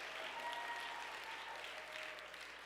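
Audience applause at a Dartmouth class welcome event, a soft, fairly distant wash of clapping heard at low volume.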